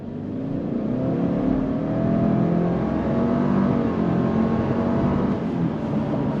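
A 2025 Subaru Legacy XT Touring sedan accelerating on throttle, heard from inside the cabin as a steady, rising engine drone with road and wind rumble, loud and continuous with no talking.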